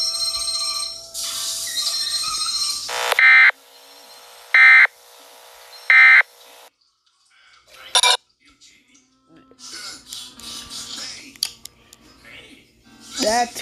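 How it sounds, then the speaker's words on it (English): Emergency Alert System tornado warning tones blare in short, harsh bursts with electronic screeches between them, followed by quieter shuffling and faint talk afterward. "That was not a test. That was a tornado warning EAS."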